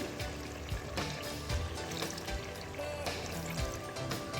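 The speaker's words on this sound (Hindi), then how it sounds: "और ऊपर से इसमें मैं ऐड कर दूँगी पानी" Water being poured into potato kofta gravy in a kitchen: a faint, steady trickling and splashing of liquid running continuously throughout, with no talk.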